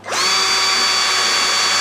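A power drill runs continuously through plastic while porting a hole in a DIY aquarium sump filter, a loud steady whine with a brief rising pitch at the start, alone without talk.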